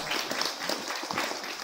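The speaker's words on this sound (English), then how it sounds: "Let's give them a big round of applause to them." Audience applause at a Dashera celebration in a temple cultural centre, a dense steady patter of many hands clapping throughout, moderately loud with no voices over it.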